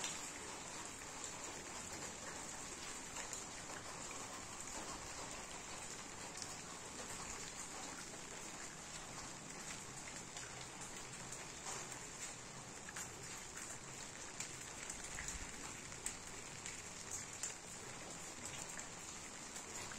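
Rain falling on potted garden plants and flowers during the rainy season: a faint, steady, even hiss of drops with no voices, continuing unchanged throughout.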